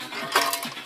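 Stainless steel camping cutlery, a Sea to Summit set, handled during backpack packing, giving a brief cluster of light metallic clinks and rattles up close with no talk.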